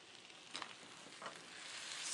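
Tomato paste being stirred into onions sizzling in extra virgin olive oil in a skillet, a close, even hiss with two brief scraping swishes as it is moved around, no talking.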